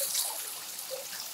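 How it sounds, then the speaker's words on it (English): A person urinating into water, making a steady, soft trickle and dribble that runs continuously and faintly at close range, with no talking. "You're taking a fat piss, aren't you?"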